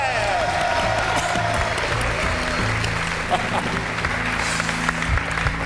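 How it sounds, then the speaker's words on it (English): A game show studio audience cheers and applauds loudly, a dense burst of clapping and whoops with some voices mixed in, fading slightly toward the end. "There was a distinctly manly cheer that went up there"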